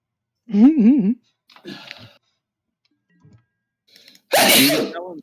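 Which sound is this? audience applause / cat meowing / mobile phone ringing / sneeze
sneeze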